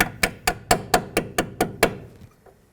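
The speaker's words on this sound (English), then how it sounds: "hammer it into place" Eight sharp, evenly spaced metal hammer blows ring out close by, driving a front CV axle bracket into place on a 2003-2007 Nissan Murano, each with a short resonant decay, then quiet.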